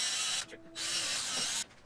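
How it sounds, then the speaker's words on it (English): Power drill boring holes for a cabinet door handle in a woodworking shop, two loud high-pitched whining bursts separated by a brief pause, close up with no talk. "Drill out a couple holes"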